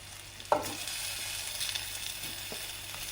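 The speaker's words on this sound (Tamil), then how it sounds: "இப்போ பாருங்கள், வெங்காயம் இந்த அளவுக்கு வதங்கிடுச்சு." Onions and tomato sauté in a pan with a steady, close sizzle, one sharp clack of a utensil near the start and a softer stir later, with no voices.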